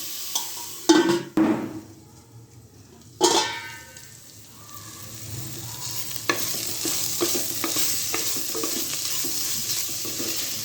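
Vegetable biryani masala simmering and frying in a pot, a steady soft sizzle with a few sharp stirring clatters early on, no voices.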